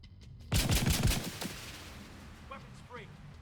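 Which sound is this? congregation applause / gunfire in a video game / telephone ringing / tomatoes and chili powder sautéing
gunfire in a video game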